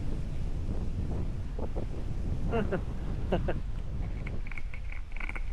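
Steady, heavy wind buffeting the microphone throughout at a campsite on Marcis Point, Tanay, Rizal, Philippines, a loud low roar with scattered faint voices and clatter underneath.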